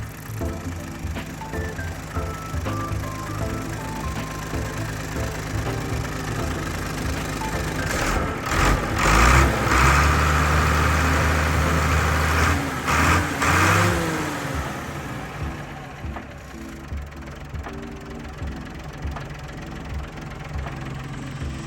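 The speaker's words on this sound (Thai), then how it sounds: "การทำงานของเครื่องยนต์ของเขาเนี่ยก็ทำงานได้แน่นดีมากๆนะฮะ" A TCM 866 wheel loader's heavy diesel engine runs steadily with a low rumble and knocking tone, briefly revving louder in the middle before settling back to idle.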